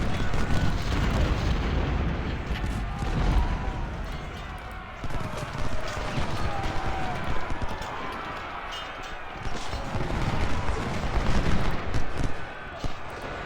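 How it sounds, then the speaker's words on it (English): Booming artillery fire in the Civil War strategy game Ultimate General: Civil War at the Battle of Chickamauga, heard as dense, rumbling cannon blasts and battle noise under someone talking. "Oh, here comes his artillery."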